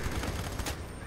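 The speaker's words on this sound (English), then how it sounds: "You're shooting his skin off." Rapid automatic gunfire from the shooter video game F.E.A.R. 3, a brief dense burst of shots, loud and close.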